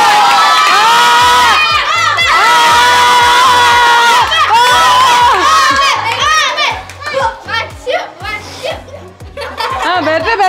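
Children cheering and shouting at a birthday party, a loud excited crowd of young voices with squeals and laughter, over a steady beat of party music.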